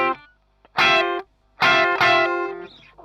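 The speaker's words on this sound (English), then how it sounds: "Rolled the tone back to about 5 and just took a slight touch off the volume" Electric guitar with the tone knob rolled back to about half and the volume eased down slightly, playing two or three separate chord stabs with short gaps between them, fairly mellow and sustained, heard alone.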